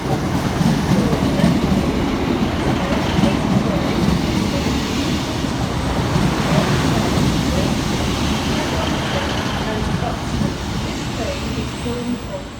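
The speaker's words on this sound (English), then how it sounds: "departing over on the far side is 156428 and 150120 with the 1633 Northern service" A Northern passenger train of two diesel units departs Stockport station, rumbling steadily with low clattering and a rolling roar, continuous and fairly loud throughout, with faint voices in the background.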